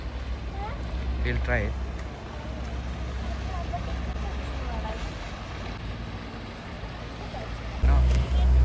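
A tour boat pulls in toward a pier on Derwent Water near Keswick in the Lake District, its low steady engine drone running throughout, with lapping water, light wind and a person talking over it.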